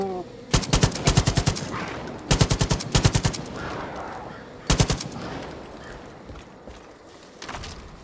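Gunfire aimed at an animal in Far Cry 5, in several fast automatic bursts of sharp close shots separated by short pauses, with a final shorter burst and no talk over it.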